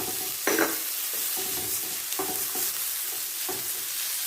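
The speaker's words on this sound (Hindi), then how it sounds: "अच्छे से मिक्स करूंगी। थर्टी टू 40 सेकेंड इसको मैंने सौते करना है।" Chopped onion and ginger sauté in a pan, a soft continuous sizzle broken by several scraping stirs of a spatula at irregular intervals, close and fairly quiet.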